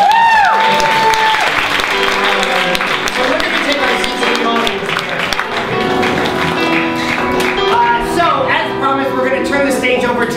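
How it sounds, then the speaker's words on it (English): Audience applause at a live improv comedy theater show, a loud, sustained round of clapping and crowd noise lasting about ten seconds, mixed with voices and some sung or whooping tones over the top. "can we do a big round of applause for David?"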